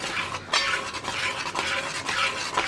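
A spoon stirs rice payasam with jaggery in a pot, making repeated close scraping and swishing strokes in a steady rhythm, with no voices.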